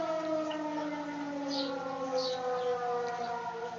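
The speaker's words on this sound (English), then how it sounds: "our noon siren." Civil defense noon siren wailing from a distance, one long steady tone that drifts slowly in pitch, with faint background sounds alongside and nobody talking.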